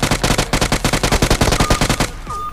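Rapid automatic fire from a UMP submachine gun in a battle royale video game: a loud, tightly spaced burst of about twenty shots over two seconds, then a quieter tail of in-game sounds.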